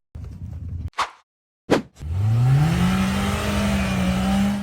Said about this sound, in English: The Polaris RZR off-road vehicle accelerated and attempted to climb a rocky slope